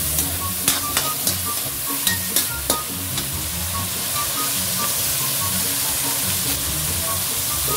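Kangkong stir-fried with ground pepper in a hot pan, a steady loud sizzle and hiss with several sharp spatula taps against the pan early on, close up and without talking.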